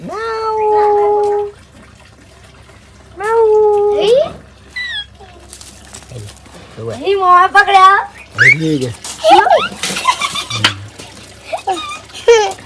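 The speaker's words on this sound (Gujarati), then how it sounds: "જો બિલાડી બચ્ચે" Kittens indoors at home mew in loud, drawn-out cries, two long calls early and more scattered ones later, with people talking over and between them.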